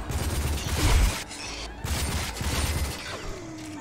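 Bursts of rapid gunfire and mechanical clatter from the video game Rage, loud and dense, broken by short pauses between volleys.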